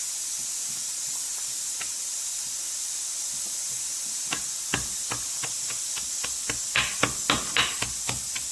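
Chopped chili and garlic are pounded together for a potato and pea sandwich. After a stretch of steady background hiss, a series of sharp, evenly spaced strikes sounds close and grows slightly louder toward the end.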